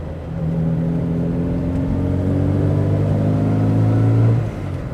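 An original Morris Mini Cooper S race car's engine drones close by, its pitch climbing steadily through a rev-matched downshift before the note drops away sharply near the end.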